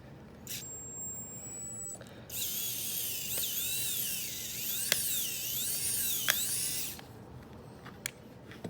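A Shark Ion 700 roller brush motor being taken apart, with a small powered screwdriver whirring steadily as screws are backed out, close and fairly loud, ending in a few sharp clicks.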